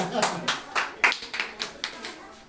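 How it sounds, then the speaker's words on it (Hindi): A small gathering claps to welcome a speaker: sparse, distinct hand claps in an uneven rhythm, roughly ten separate strikes, fairly close and moderately loud. "आप बोलिए सर को जोरदार तालियों के साथ"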